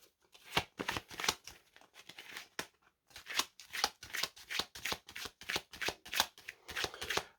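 Close shuffling of a deck of cards during a card reading, a run of crisp riffling bursts in rhythmic succession with a short pause midway, no talking.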